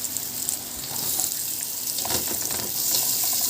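Onions and peppers fry in a pan with a steady bright sizzle, with a few stirring scrapes and clatters partway through, close and moderately loud, with no voices.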